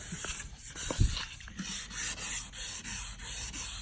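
A car headlight is hand-sanded with 500 grit sandpaper, producing soft, close, continuous rubbing strokes in a rough back-and-forth rhythm.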